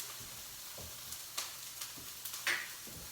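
Garlic sizzles in a pan over medium heat for ratatouille, a soft continuous frying hiss broken by scattered light taps and stirring scrapes.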